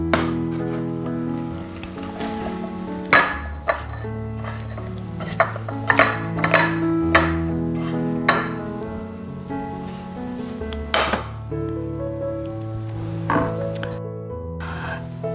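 Fried minced meat is scraped and spooned from a pan into a bowl, with repeated irregular clinks and scrapes of utensil on metal and ceramic over a faint sizzle, alone and close.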